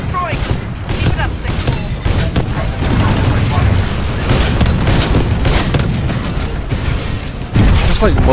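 A titan blown apart in a multiplayer shooter video game's attrition mode, dense booming explosions and crashing mechanical debris layered over constant gunfire, loud and continuous throughout.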